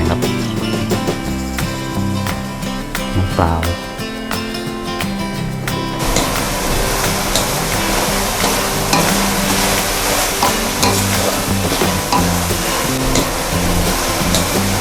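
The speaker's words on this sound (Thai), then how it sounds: "ผัดไปเรื่อยๆนะครับ" Bitter melon, shiitake mushrooms and pork stir-fried in a pan, giving a steady loud sizzle with scraping and stirring throughout that turns denser and hissier partway through.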